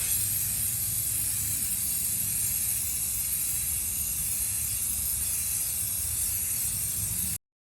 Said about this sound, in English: spray it about 10 to 16 inches away from the surface that you're trying to spray